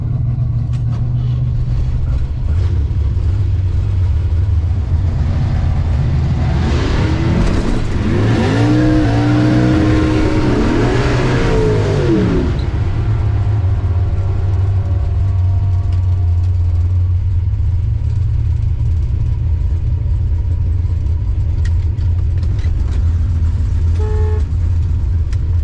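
Chevrolet Corvette revving and accelerating at an NMCA drag strip event, with a steady low engine drone rising into a loud, strained roar mid-clip, then settling back to an idle-like rumble.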